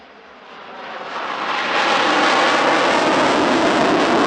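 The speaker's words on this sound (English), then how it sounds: "There were two Gripen solo displays, an in-service Gripen C and a Gripen E from Saab." A Saab Gripen fighter jet passes at an air force anniversary airshow, its broadband engine roar swelling from moderate to loud over the first two seconds and then holding as a sustained, close rushing blast with no voices.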